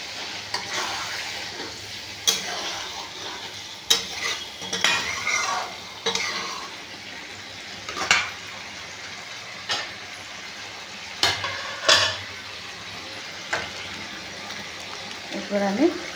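Potato leaves frying in a pan as a little water goes in and they are stirred, with sharp spoon scrapes and clinks recurring over a steady soft sizzle, close by and fairly loud.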